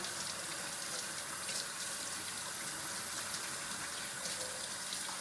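Water runs steadily from a sink tap as a Norwex dishcloth is rinsed beneath it, a continuous close rushing hiss with faint splashes and no voices.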